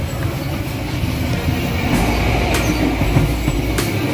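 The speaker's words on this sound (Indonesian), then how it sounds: "sekarang hari ini kakak main naik kereta api dari stasiun Halmahera ke stasiun Cimuka" Steady rumble and rattle of a moving Indonesian economy-class, air-conditioned passenger train from inside a carriage, with faint rhythmic clacks and occasional metallic ticks.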